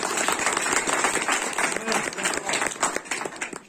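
Church congregation clapping loudly and steadily in a dense, sustained burst of applause that fills the whole stretch, with some voices mixed in.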